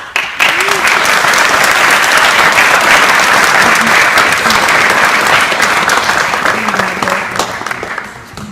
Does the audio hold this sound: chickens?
no